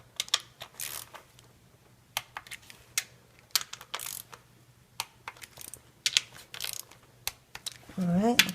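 A hand torque wrench tightening valve cover bolts on a Toyota Matrix/Corolla 1ZZ engine, heard as a series of short close ratcheting clicks in separate bursts, ending with a brief squeaky turn.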